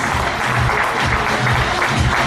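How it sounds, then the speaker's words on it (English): An audience claps for award winners at a prize ceremony, a full, continuous burst of applause close and loud throughout, with a low rhythmic thumping underneath. "we need to keep the applause going"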